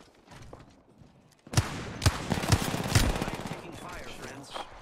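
Bursts of gunfire in the video game Apex Legends, with several sharp, loud shots in quick succession over a dense, steady wash of game noise after a quieter opening.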